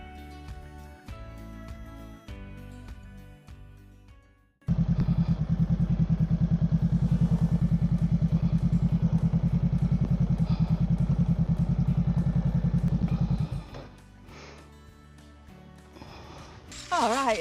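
A Honda Rebel motorcycle rides into a wet car park at a visitor centre in the Staffordshire Moorlands. Its engine drones loud and steady for several seconds, then drops away as the bike slows.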